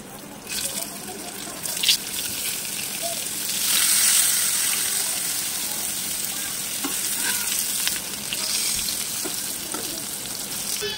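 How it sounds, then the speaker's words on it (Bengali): Boiled potatoes fry in hot oil in a frying pan, giving a steady close sizzle with occasional stirring scrapes and a brief louder hiss midway; no one speaks. "একই তেলের মধ্যে আমি সিদ্ধ করে রাখা আলুগুলাও ভেজে নেব।"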